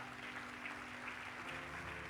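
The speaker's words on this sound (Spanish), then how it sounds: "Dele un aplauso al Señor." Faint applause rises from a church congregation during a sermon, a soft continuous patter of clapping with a low steady hum beneath it.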